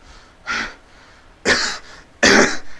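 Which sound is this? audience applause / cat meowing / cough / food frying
cough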